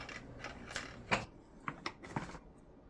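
A small screwdriver scrapes and picks sawdust out of a Milwaukee M18 16-inch chainsaw, quiet irregular clicks and scratchy ticks in short bursts, close by with no voices.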